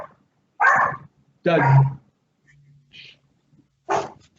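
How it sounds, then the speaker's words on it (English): A dog barks several times in short, sharp bursts close by, with brief pauses between them, heard indoors during an online public meeting. "Apologies, that's my dog."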